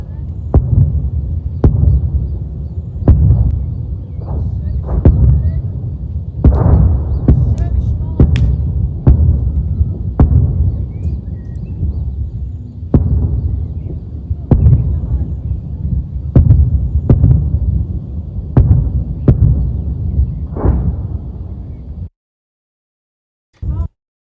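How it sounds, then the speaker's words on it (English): Hezbollah missile impacts boom over and over, a long run of deep, muffled thuds arriving roughly every second or two at a steady, throbbing pace, loud and heavy until an abrupt stop near the end. "It's the sound of the missiles impacting."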